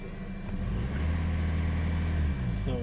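A Mercedes CLA 220d diesel in limp mode with a lit engine light revs up to about 2,400 RPM. A close, rising engine note climbs, holds for over a second, then eases back down.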